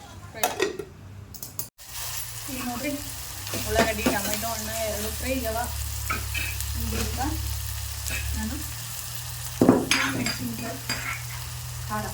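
Chopped tomato fries in a pan, giving a steady close sizzle with occasional stirring clatter. A voice talks over the cooking throughout.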